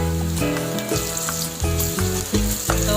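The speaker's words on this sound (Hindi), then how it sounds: "ये 5 मिनट तक मैंने फ्राई की है प्याज" Onion, garlic and ginger fry in a pan, giving a steady sizzle over about three seconds, heard under background music.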